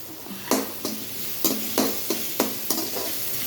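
Capsicum and beans sauté in a pan while being stirred, with about eight sharp scraping sizzles at a steady rhythm over a soft background sizzle, close and clear.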